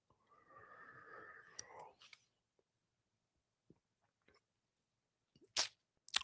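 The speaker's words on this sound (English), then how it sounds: "What are you chewing, buddy?" An animal chews in soft, close, wet bursts, followed by a few scattered clicks and smacks in an otherwise quiet room. A breathy, whisper-like voice is heard near the start.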